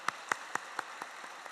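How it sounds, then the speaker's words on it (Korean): At a Sunday service at Yoido Full Gospel Church, the congregation claps in a brief run of about six sharp, evenly spaced claps that weaken toward the end, heard quietly with no talking. "오늘 우리 박수 한번 드리겠습니다."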